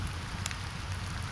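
Gentle rain falling steadily and softly, a continuous hiss of pattering drops with no voices, close and even throughout.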